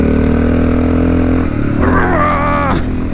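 Honda XR650L motorcycle accelerating hard in third gear on a mountain trail, a loud, close engine roar that drops briefly, then rises again in rising pitch as the bike pulls.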